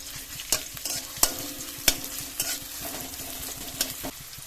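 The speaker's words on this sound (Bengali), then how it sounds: "পেঁয়াজ আর কাঁচা লঙ্কাটা হালকা এরকম একটু লাল করে ভেজে নিয়েছি" Chopped onion and green chili sizzle steadily in oil in a kadai, with sharp clicks and scrapes from stirring breaking in at irregular intervals and no voices.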